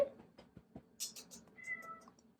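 Lily the cat meows a few times close by, short mewing calls spread across a quiet room with soft handling noises in between.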